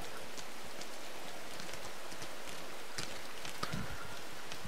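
Light rain pattering in the video game Rain, a soft, faint, steady patter of drops with a couple of sharper taps near the end, no voices.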